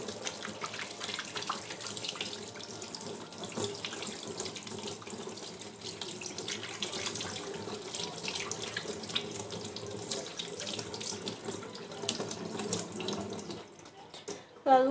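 Hands are rinsed under a running tap into a sink, a steady close splashing water stream lasting throughout, ending with a brief louder splash.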